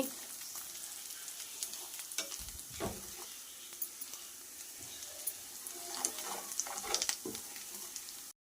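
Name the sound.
stirring chicken pachadi frying in a pan with a ladle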